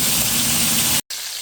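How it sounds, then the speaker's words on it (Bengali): Poa fish frying in hot oil, a loud, dense, steady sizzle heard up close, broken by a brief moment of silence before the hiss resumes. "মাছগুলো আমি সব দিয়ে দিয়েছি আস্তে আস্তে লাল লাল করে ভেজে নেব"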